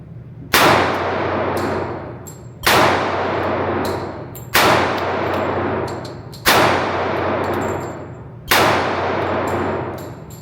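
Five loud pistol shots from a Springfield TRP ring out about two seconds apart, each a sharp crack followed by a long, bright clang from a steel target that rings and fades before the next.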